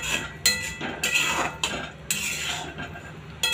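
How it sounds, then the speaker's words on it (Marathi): A metal spoon stirs boondi into sugar syrup in a pan, giving repeated scraping clinks and knocks against the metal at irregular intervals, close and clear with no talk. "छान बुंदी जी आहे ती पाकामध्ये मिक्स करून घ्यायची। आणि आपल्याला इथे तोपर्यंत हलवत राहायचं आहे"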